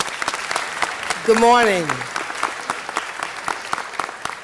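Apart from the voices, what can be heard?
city council audience applause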